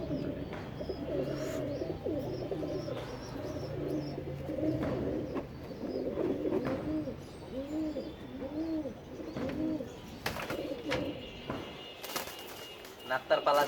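A pigeon coos close by in a run of repeated, rolling coo phrases, with soft background noise between calls.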